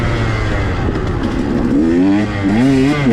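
A Yamaha YZ 125 two-stroke dirt bike engine on a trail, running loud and close with a steady drone that climbs in pitch as it revs near the end.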